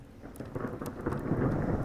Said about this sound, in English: Of course it's going to rain.